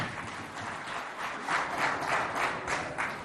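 An audience applauds a singer at a school contest in Moundou, a steady wash of clapping that swells in a few pulses midway.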